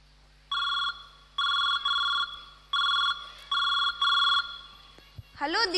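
A telephone rings back during an outgoing call, a steady electronic double-tone repeating in regular bursts, quite clear and close, before a voice begins speaking at the end.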